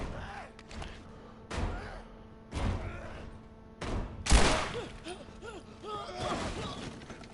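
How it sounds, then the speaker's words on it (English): Several sharp pistol shots and thuds ring out in The Last of Us, spaced a second or so apart, each a loud broadband crack fading into mechanical creaks. "I'll use the shitty pistol."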